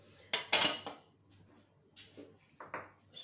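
A spoon clinks and scrapes against a bowl while oil and spices are stirred for a salade niçoise, a few sharp close taps with quiet gaps between them.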